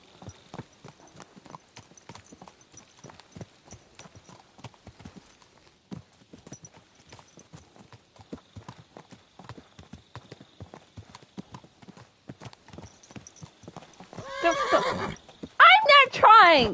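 In the Kingdom Come: Deliverance video game, a horse's hooves clip-clop in a steady rhythm, then the horse gives a loud whinny near the end over a brief rustle.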